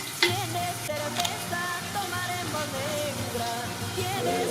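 Lentils tipped into a pot of sizzling onion, a steady close frying hiss with stirring scrapes and a couple of sharp knocks near the start, backed by faint music.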